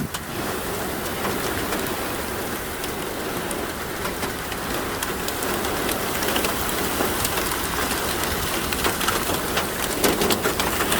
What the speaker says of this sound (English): Hail, we have hail.